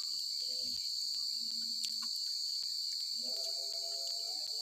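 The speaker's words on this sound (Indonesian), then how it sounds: "Ditemani jangkrik" Crickets chirp in a steady, high, continuous trill at night, faint and unbroken, with a few other soft tones drifting underneath and no talk.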